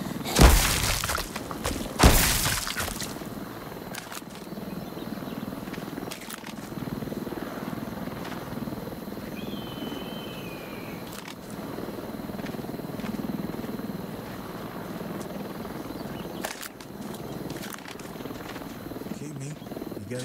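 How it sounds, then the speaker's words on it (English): A helicopter in the video game Arizona Sunshine 2 gives a low, steady rotor rumble that holds throughout at moderate distance, with a few sharp clattering impacts and crashes breaking in near the start. "That chopper's got my name on it!"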